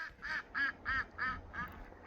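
Ducks quack in a steady run of about six calls, evenly spaced and fairly close, with nothing else around them.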